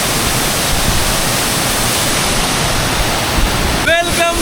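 A monsoon-swollen jungle waterfall in Sindhudurg, Kokan, roars in a loud, steady broadband rush close by, with a brief voice rising over the torrent near the end.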